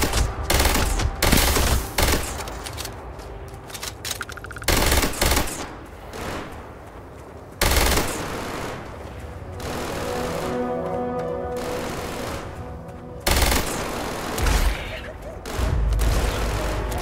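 Gunfire in the video game Starfield aimed at flying raptors, heard as loud bursts of rapid shots in clusters with pauses between, set against a dense, steady game soundscape.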